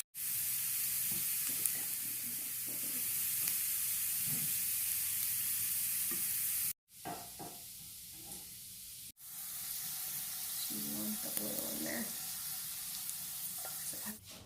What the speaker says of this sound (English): So you just want to stir these around until they're nice and golden.